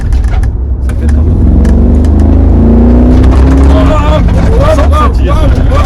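Mercedes G55 AMG accelerating hard, a loud, deep engine note rising in pitch as it revs up close by, with cabin rumble underneath.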